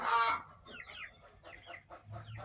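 Young chickens out foraging and chasing each other over a worm, one loud close squawk followed by a string of softer clucks and chirps, with no voices.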